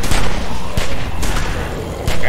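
Several loud gunshots sound from a zombie fight in Telltale's The Walking Dead, a few sharp cracks spaced across a short burst over a dense background of struggle and noise.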